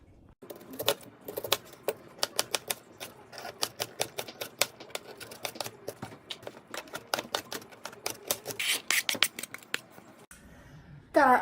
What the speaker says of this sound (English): Got our onion diced up